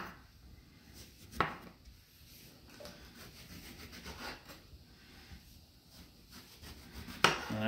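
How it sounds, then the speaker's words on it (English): A knife cuts the peel off an orange for juicing, giving soft rubbing, scraping strokes with a couple of sharper cuts, close and quiet with no talking. "I'm just chopping off the peel"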